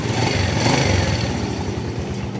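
A Yamaha Vega motorcycle engine, kick-started after its electric starter failed, runs at a steady, loud, close idle with a slight swell in revs, no voices over it.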